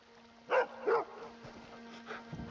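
A happy dog barks in the Elder Scrolls Online video game: two short, clear barks close by, followed by fainter yips over a low steady hum.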